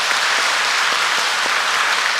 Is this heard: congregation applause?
yes